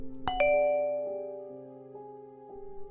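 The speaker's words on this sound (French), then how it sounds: "la sonnette de sa porte d'entrée retentit." A front-door doorbell rings with two quick bright strikes, then a sustained ding-dong chime that rings out and slowly decays, close and clear in a quiet room.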